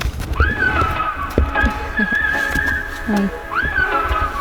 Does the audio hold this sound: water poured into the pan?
no